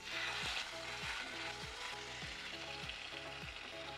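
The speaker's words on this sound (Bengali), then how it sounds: "চিকেনগুলো সব ফ্রাই করতে দেবো।" Marinated chicken shallow frying in a hot pan gives a loud, continuous sizzling hiss with no voices, broken by soft low thumps that recur about every half second.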